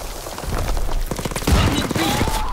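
Shotgun blasts and battle noise from Call of Duty WWII fill a short, loud, dense stretch with overlapping booming shots and no clear gaps.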